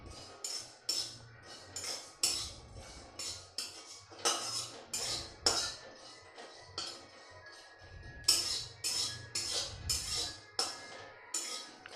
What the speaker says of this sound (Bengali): জিরে নিয়ে এটাকে একটু ভেজে নেব।